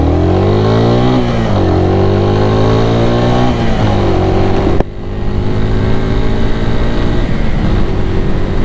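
A Suzuki TU250X motorcycle rides at night, its single-cylinder engine droning loudly and close with steady harmonic tone, pitch dipping and rising through gear changes and throttle shifts, with wind rush throughout.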